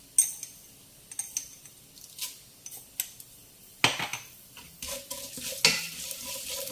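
Fenugreek seeds go into a hot pan during mango pickle cooking, with soft sizzling and a series of sharp metallic clinks and scrapes of a spoon stirring against the pan, close and fairly quiet.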